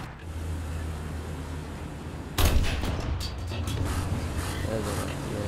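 Tank cannon shot in War Thunder, a single loud sharp blast breaking over a low engine drone, followed by rattling impacts and continued rumble.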